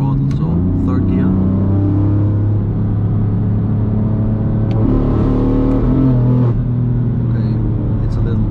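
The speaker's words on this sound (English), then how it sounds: "press and hold for 2 seconds, and go full throttle, so third gear" Tuned BMW-style car running about 22 to 24 psi of boost in third gear at full throttle with rolling antilag on a wet road, engine roaring loud and close with rising and shifting tones, and a voice talking over it.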